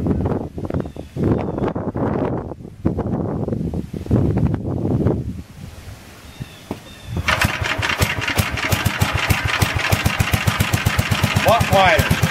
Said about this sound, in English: Sorry it wasn't a one-pull start, Steve.